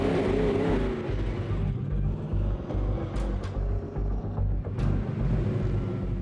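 A race car rolls in toward the pit box on a right-side approach during pit stop practice, a loud steady engine drone with a few sharp higher bursts as it nears.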